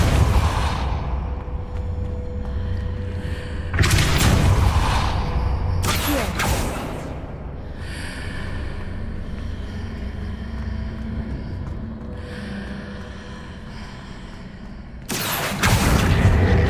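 Depulso force spell cast in Hogwarts Legacy, heard as sudden loud whooshing blasts that burst out of a low rumbling game ambience, with several sharp impacts spaced apart over the stretch.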